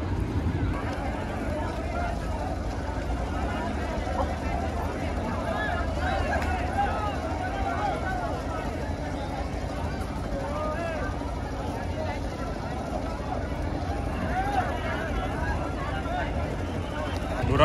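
Racing boats on the water during a boat race in India, a continuous rumbling wash of hulls and wind with distant crowd babble and voices talking throughout.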